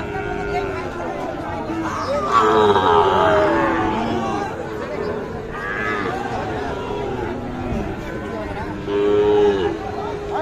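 Sahiwal bulls and calves low at a busy livestock market in Bangladesh, with a couple of long, loud moos rising over crowd chatter and people talking throughout.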